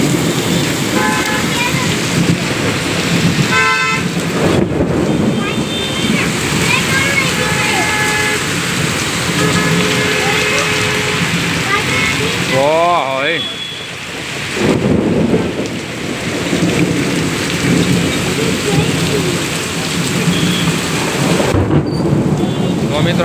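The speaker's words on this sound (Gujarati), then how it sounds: "રાજકોટમાં ધમધમાટી બોલી વરસાદની હો" Heavy monsoon rain pours steadily in Rajkot while thunder rumbles loudly near the start and again midway, with traffic noise in the background and someone talking over the downpour.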